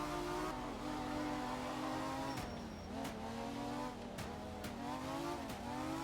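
Rally car engine in the racing video game Art of Rally, a buzzy, steady drone with shifting harmonics as it revs, punctuated by sharp gear-change breaks and brief tire-squeal ticks, loud and continuous without voices.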